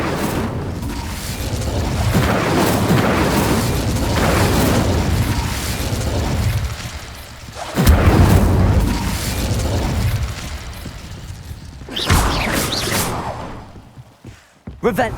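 Confringo spell explosions in Hogwarts Legacy boom and burst in a busy stretch of repeated loud blasts and whooshes, with game voices calling out between them.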